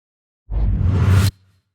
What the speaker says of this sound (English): Here's the swoosh layer altogether.